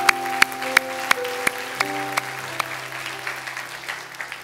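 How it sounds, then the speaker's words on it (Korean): A church congregation claps during a Sunday worship service, giving a round of applause to God: dense hand clapping with a few sharp, louder claps standing out near the start, gradually thinning as it goes on. "우리 하나님께 큰 영광의 박수 올리겠습니다"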